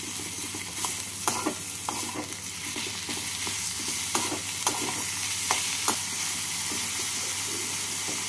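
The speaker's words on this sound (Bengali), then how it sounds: "এবার এর মধ্যে দিয়ে দিচ্ছি বেটে রাখা চিংড়ি মাছ। চিংড়ি মাছটাকে দিয়ে এর সাথে মিশিয়ে নেব।" Ground shrimp paste frying with onion and capsicum in a pan for paneer-shrimp chops: a continuous close sizzle broken by a few sharp spatula scrapes and taps, with no voices.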